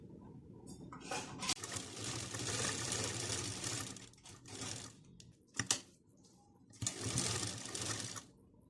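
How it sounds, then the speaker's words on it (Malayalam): A sewing machine stitches a kurti in several bursts of fast, even needle chatter, fairly quiet and close, separated by short pauses and a few sharp clicks. "അപ്പോൾ ഇനി നമുക്ക് സ്റ്റിച്ച് ചെയ്ത് തുടങ്ങാം."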